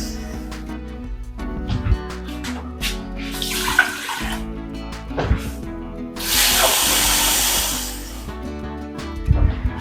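Water poured from glasses into a pot of rice for stuffed peppers, two broad splashing pours with a brief gap between them amid light kitchen clatter, close and fairly loud.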